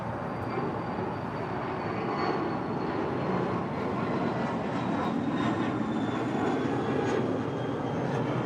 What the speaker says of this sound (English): That is a Cessna Citation Latitude, also departing to Austin, Texas.